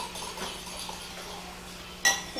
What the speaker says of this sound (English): you can stir your eggs a little bit more if you want to get, more mixed